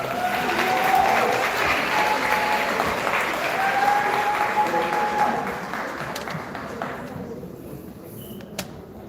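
Sustained applause from an audience at a secondary school's annual awards ceremony and 40th anniversary celebration, steady dense clapping that thins and fades toward the end.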